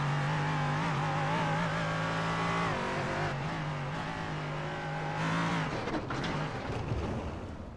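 A race car engine in a video game endurance race revs hard and steady out of a corner, loud and continuous with a stuck-throttle drone, then shifts pitch and tails off slightly near the end.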